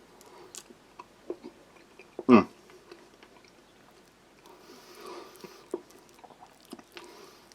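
Someone eats a Latvian army field ration of smoky bacon and pureed peas. Soft, close mouth sounds come through, broken by one sharp louder bite or clack midway, with a few small clicks in an otherwise quiet room.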